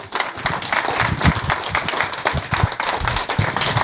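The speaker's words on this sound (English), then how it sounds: "Could we thank a round of applause for everybody" An audience at the Mysterium 2024 event applauds in a short burst of irregular, close-sounding claps with a fairly uneven rhythm.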